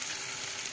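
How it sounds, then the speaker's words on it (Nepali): Chopped tomato hitting hot oil in a frying pan, giving a steady, close sizzle with faint stirring and no voices. "अब यहाँ चाहिँ म यसमा एड गर्दैछु टमाटर है।"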